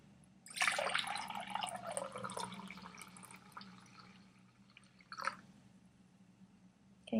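Two cups of water pour from a cup into a container, starting with a splashy gush and easing into a softer trickle, then a brief splash a few seconds later, close and fairly quiet.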